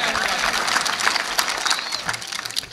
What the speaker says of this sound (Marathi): त्यांच्यासाठी एकदा जोरदार टाळ्या होऊन जाऊ द्या